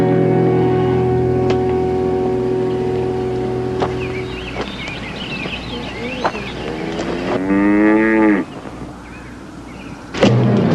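Cattle low and moo repeatedly, several drawn-out calls overlapping, amid outdoor noise and occasional sharp knocks.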